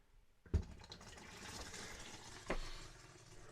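An RV faucet being opened during winterizing of a fifth wheel trailer releases a faint splashing gush of water after a sharp knock, with a second surge a couple of seconds later, quiet and close.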